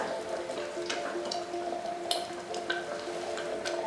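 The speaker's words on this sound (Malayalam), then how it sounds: "ഇതിപ്പോൾ നന്നായിട്ട് ഇങ്ങനെ പൊട്ടിത്തെറിക്കുന്നുണ്ട്, പുറത്തേക്ക് കണ്ടോ, അങ്ങനെ തെറിക്കുന്നുണ്ട്" Thick tamarind puliyinchi paste simmers on a low flame, spluttering and popping in scattered soft bursts and small ticks over a steady background hiss.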